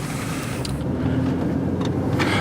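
A car passes close by on a city street, with a steady broadband road and engine rush that swells slightly near the end. No one speaks.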